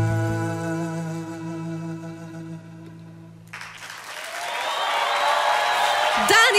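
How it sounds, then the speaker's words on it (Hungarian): A sustained held sung note closing a song performance gives way to a swelling wave of audience applause and cheering at a televised song contest final, growing louder toward the end. "A taps azt hiszem magáért beszélne"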